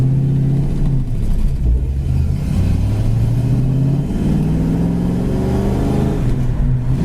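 A 1967 Ford Mustang drives along, its engine rumbling steadily and climbing in pitch through several gear changes, loud and close inside the car with no talking.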